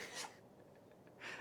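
In a garden, a quick, sharp sneeze bursts out close by, followed after a brief pause by a second breathy sneeze, with faint background noise between.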